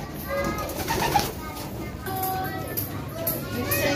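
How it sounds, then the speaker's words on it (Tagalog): Repeated soft pigeon coos in a steady rhythm at a pigeon loft, layered with other birds calling and a busy background of voices and movement. "So yung ating pangatlong ibon si Green Seal"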